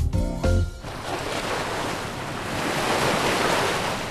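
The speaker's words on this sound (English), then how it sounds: "The waves are getting bigger" Cartoon ocean waves surge and wash in a continuous rushing roar with wind noise, following a brief musical sting at the start, steady and fairly loud with no talking.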